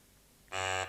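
A single loud, harsh electronic buzzer from a quiz show sounds for about a third of a second after near silence.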